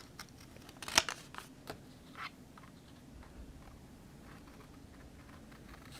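Scissors snip around the edge of a paper card in a run of quiet, close cuts. One sharper snip stands out early, then softer irregular cutting follows.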